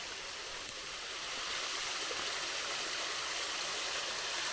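A small waterfall just off a hiking trail gives a steady, soft rush of falling water, moderately near and unbroken, with no voices.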